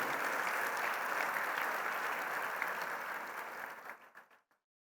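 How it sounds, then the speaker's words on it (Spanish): Sustained applause from a gathered crowd fills the space, then thins into a few scattered claps and fades to silence. "Un aplauso por el trabajo, hermanos."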